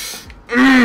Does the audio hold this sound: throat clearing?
yes